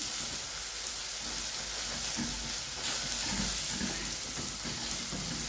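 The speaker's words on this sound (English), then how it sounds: "it cooks very fast and I don't want my onions to burn" Onions fry in a pot of Kenyan beef pilau, giving a steady close hiss of sizzling oil with faint scraping and no talk.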